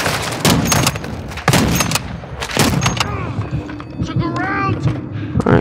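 A decoy grenade in Call of Duty DMZ spits out fake gunfire: bursts of loud, close shots in uneven rapid volleys, followed by scattered thuds and whistling tones, with no voices.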